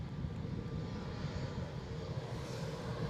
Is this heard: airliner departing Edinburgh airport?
yes